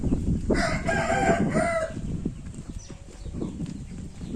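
A rooster on a farm with chicks crows once, loud and close, for about two seconds, followed by softer clucking and scratching noises from nearby fowl.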